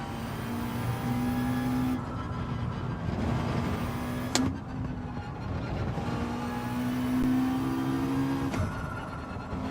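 Race car engine in Gran Turismo 7 held at steady high revs on throttle, with shifting harmonic pitch and brief upshift dips, loud and continuous throughout.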